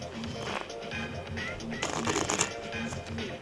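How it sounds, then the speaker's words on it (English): Cards being shuffled with quick riffling bursts and soft flutters, close by, with a faint voice murmuring underneath. "I'm going to shuffle these, and then we're going to pick the card"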